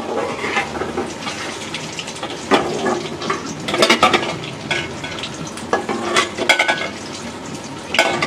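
Eggs sizzle and crackle in a hot pan in a home kitchen while a utensil stirs and scrapes, with sharp clinks of metal on cookware breaking through the steady frying hiss.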